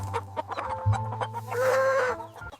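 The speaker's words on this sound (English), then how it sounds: "These are beautiful hens." Hens clucking and cackling close by, with several overlapping calls and a rising squawk in the middle, no talking.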